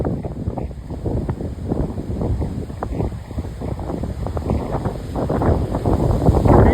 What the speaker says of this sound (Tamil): பயங்கரமான காற்றுகளாக இருக்குது.